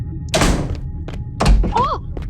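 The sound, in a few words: door closing by itself in the video game Asylum 77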